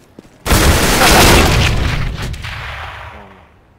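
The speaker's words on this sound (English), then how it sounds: "Throwing the flashbang!" A flashbang grenade goes off in CS:GO: one sudden, loud, close blast that rings out and fades slowly over a few seconds, with faint voices in the background.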